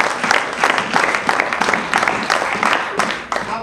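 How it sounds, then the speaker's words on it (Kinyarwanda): An audience at a church gathering clapping together, a dense, fairly loud patter of many hands with rhythmic surges, continuing without pause through the short stretch. "Imana amashyi."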